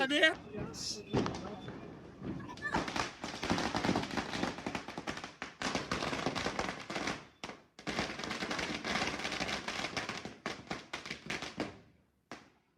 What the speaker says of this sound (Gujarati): અત્યારે હું 2000 વાળો ફટાકડા ફોડું